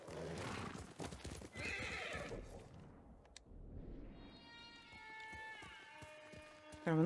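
In Ghost of Tsushima a horse named Sora gallops with thudding hooves, then gives a loud, close neigh near the end, while someone talks and tonal game music rises over the sounds.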